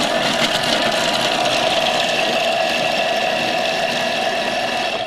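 A Thermomix TM31 chops a parsley garnish at speed 5 with a steady whirring motor hum, close and continuous throughout, with no talk over it.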